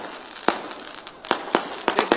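Outdoor firecrackers going off at a political rally, a string of about six sharp, loud bangs, sparse at first then quicker, over steady crowd noise.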